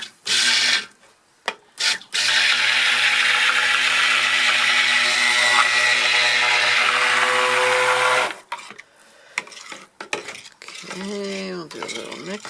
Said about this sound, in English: now we're going to mix it and stick blend it